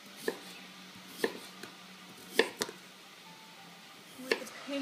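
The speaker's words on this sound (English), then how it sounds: "Slice the potatoes 1 centimetre thick." A knife slices potatoes into 1-centimetre rounds on a cutting board, five or six separate crisp thuds spaced unevenly, close and fairly quiet against a still room.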